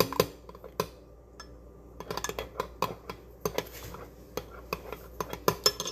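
A utensil clinking and scraping against a pot while stirring black soap into a homemade clove, flaxseed and fenugreek clarifying shampoo, with irregular close, sharp taps and clatters over a quiet background.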